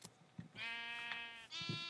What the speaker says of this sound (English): No, don't kill the sheep.